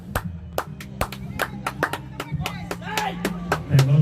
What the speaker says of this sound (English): we're clapping everything